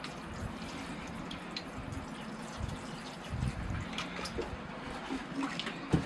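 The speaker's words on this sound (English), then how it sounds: "I'm going to wet the root system down again. Kind of wash it out a bit." Water rinses through the root system of an Arakawa Japanese maple bonsai during repotting, a steady soft trickle and splash with scattered drips that stays close and fairly quiet throughout.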